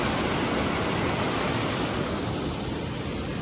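Steady, dense rushing of a mountain river running high and fast, loud and continuous with no breaks, filling the whole clip like a swollen river close by.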